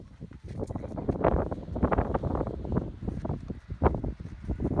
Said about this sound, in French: Oh, il y a du vent quand même.